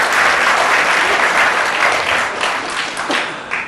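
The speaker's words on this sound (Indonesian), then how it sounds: "Tepuk tangan untuk Jogja ya." An indoor audience at a talk in Jogja bursts into loud, sustained clapping that fills the room for several seconds and slowly tapers off near the end.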